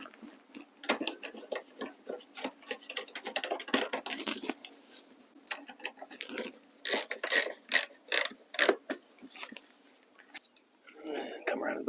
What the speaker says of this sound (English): we're going to put these Phillips screws back in